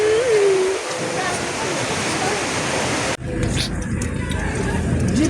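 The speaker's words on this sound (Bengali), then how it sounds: "জলের শব্দগুলো শোনা যাচ্ছে।" A mountain stream rushes as a steady broadband roar close by. A brief whistle-like tone sounds early, and the noise shifts abruptly partway through.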